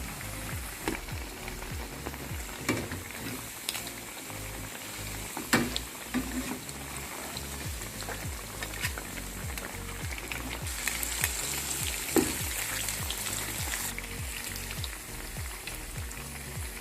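Dendeng ragi, spiced shredded-coconut beef, fries in hot oil in a Banyuwangi kitchen, giving a steady dense sizzle with crackles and occasional louder pops, close and continuous with no talking.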